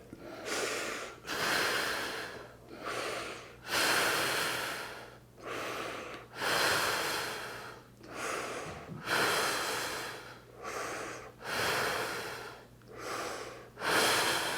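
Deep, deliberate breaths during a standing movement exercise, about seven slow inhale-exhale cycles taken close up, each a loud airy rush separated by short quiet pauses.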